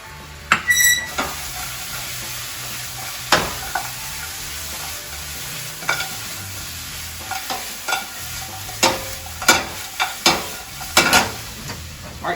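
Honey wing sauce sizzles and thickens in a pan while a utensil stirs and scrapes it, with a soft frying hiss under repeated sharp clinks and scrapes.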